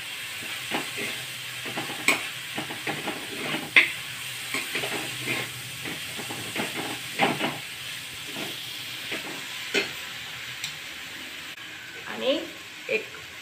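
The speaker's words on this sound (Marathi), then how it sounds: "पण असं थोडंसं परतून घ्यायचं मिरची टाकल्यावर नंतर" Chilies sautéing in a pan with a soft steady sizzle and intermittent stirring scrapes, a voice talking over the cooking throughout.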